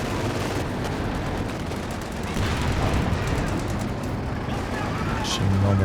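Continuous dense battle noise from the Company of Heroes 2 video game, with .50 cal machine gun fire and other weapons blending into a loud, steady roar that barely lets up across the whole stretch.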